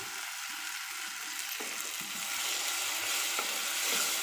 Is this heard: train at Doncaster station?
no